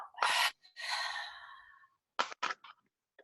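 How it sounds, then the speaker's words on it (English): A deep breath is drawn in through the nose and let out through the mouth: a long, airy inhale and exhale, then a few short breathy puffs, close and quiet with no talking. "So breathing in here and out."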